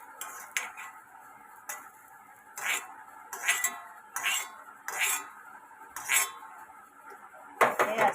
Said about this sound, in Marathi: आता हे गॅस बंद करते मी आता. आणि आपण ताटात काढूया कांदा खोबरं.